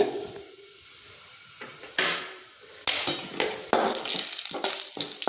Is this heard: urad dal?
yes